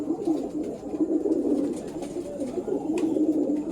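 Pigeons in a fancier's loft, birds from a single breeder's bloodline, keep up a dense, continuous low cooing close at hand, many voices overlapping steadily with faint higher clicks above.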